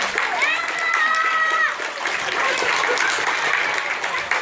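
A crowd of parents and guests claps for preschoolers at a kindergarten Cinderella show, steady dense applause filling the whole stretch, with voices mixed into it.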